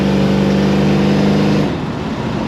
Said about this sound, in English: Those Black Widow mufflers on this car really sound good.